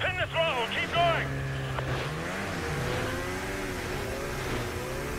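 A vehicle engine roars at full throttle in the video game Call of Duty Modern Warfare 2, a steady, loud drone under overlapping voices and radio chatter.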